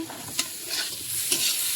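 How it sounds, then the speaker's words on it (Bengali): Katla fish frying in a pan on an outdoor makeshift cooking setup, a close, continuous sizzle with a few brief scraping stirs breaking through at intervals, no voices. "মাছ ভাজা হচ্ছে"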